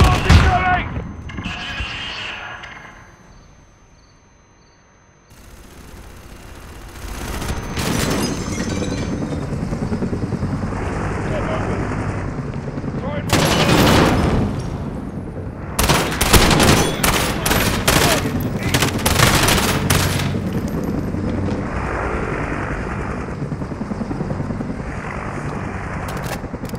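Call of Duty Modern Warfare combat builds from an early burst into a growing roar of incoming missiles. Heavy, loud rapid gunfire volleys and explosive booms follow, with intermittent voices calling out amid the chaos.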